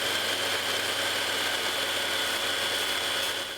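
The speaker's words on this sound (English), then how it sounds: "80 grit sandpaper in the belt sander" Belt sander running 80 grit paper on a purpleheart mallet under light pressure, a continuous loud abrasive roar with a steady grinding whine and no pauses.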